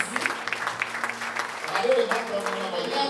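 A church congregation applauds and cheers for Jesus, the clapping spread evenly and moderately loud, with a voice speaking over it.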